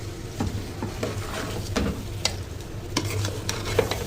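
Rice and egg being stirred carefully in a hot frying pan, a steady sizzle with repeated scraping and stirring strokes close up, no voices.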